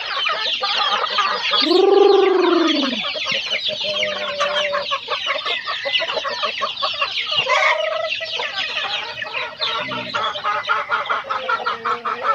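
Farm chickens and chicks fill the air with busy clucking, cackling and peeping, loud and close, with a few longer drawn-out calls from hens rising over the constant chatter, no talk.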